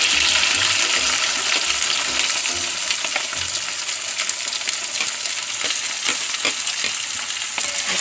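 Garlic, ginger paste, green chilli and onion fry in hot oil in a pan, giving a loud, steady, close sizzle that continues throughout with occasional crackles and stirring scrapes.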